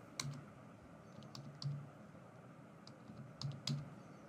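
Keys on a computer keyboard are tapped in short irregular bursts of clicks while a customer's WhatsApp number is entered into a web checkout form, quiet and close with no talk.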